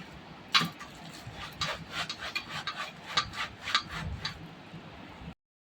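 Palmyra palm fruit grated by hand against a grater, a steady series of rough rasping strokes, close and fairly loud, with no voices.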